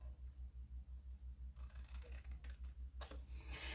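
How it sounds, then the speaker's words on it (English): Scissors snip through paper along score lines while a gift box is made, a few crisp cuts and scraping sounds near the end, quiet over a steady low electrical hum. "I want you to cut right up these score lines on the short sides to the other score line."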